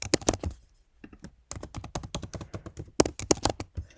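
A password is typed on a computer keyboard in quick bursts of close, crisp key clicks, with a short pause in the middle.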